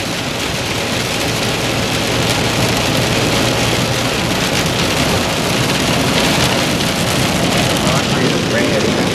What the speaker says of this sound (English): Honestly, the rain isn't as bad.